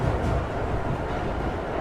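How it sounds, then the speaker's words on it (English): A train rumbles and rolls along in a low, steady drone, continuous and fairly loud throughout, with no voices over it. "With another hiss, the door between them closed, and the train jolted back into movement."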